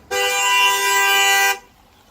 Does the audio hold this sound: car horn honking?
yes